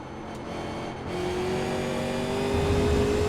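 A 1987 NASCAR Cup car at Watkins Glen in the iRacing sim, its engine note shifting as the car slows and the pitch changes, a steady loud drone with a rising tone near the end.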